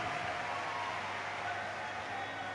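An audience at a Shiv Mahapuran religious discourse gathering in Ranchi claps in sustained, dense applause, a steady even wash of many hands without breaks.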